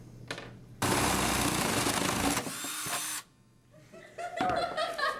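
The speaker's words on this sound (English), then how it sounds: "So we're going to drill in right there." A power drill bores a 1 1/2 inch hole in a hovercraft part for a physics build, a loud steady whir of about two and a half seconds that starts abruptly, then stops, followed by rattling and handling noises.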